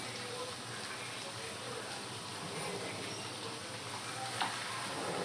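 Chinese-style noodles sizzle steadily in a hot pan at home while being stirred, a dense close frying hiss with faint scraping and one small clink near the end.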